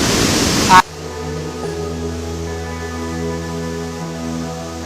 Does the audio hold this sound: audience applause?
no